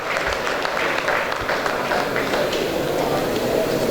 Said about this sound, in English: Can we clap for ourselves, please?